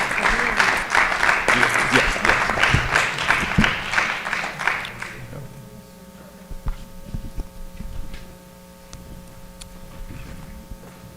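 An audience at a board meeting breaks into dense, lively applause for about five seconds, then it fades out, leaving a low hum and scattered faint room noises.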